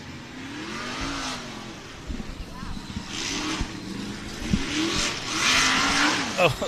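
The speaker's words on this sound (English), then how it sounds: "I think you're about to hear this buggy sing" A buggy's engine revs and surges under hard driving, with rising and falling engine tones and tire noise as it slides, fairly close and loud.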